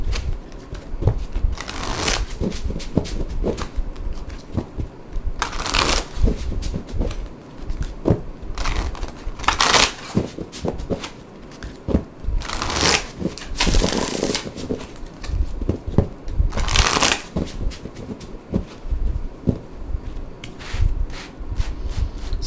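Archangel Power tarot cards being shuffled, a steady close papery riffling and flicking with periodic louder bursts of card slaps across a long stretch, with no talking.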